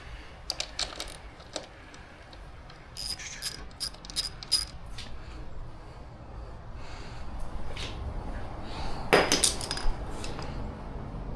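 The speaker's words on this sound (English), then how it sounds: "now right here I am installing the swing arm with this last bolt" Ratchet clicks while the swing arm bolt on an e-bike is tightened, short bursts of metallic clicking scattered over a low workshop background, close and fairly faint.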